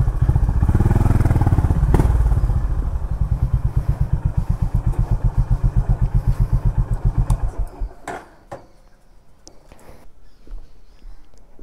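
A motorcycle engine close by in Kerala runs loud and steady, then drops into a rhythmic pulsing idle before cutting off, leaving quiet clicks and faint background sounds with no talking.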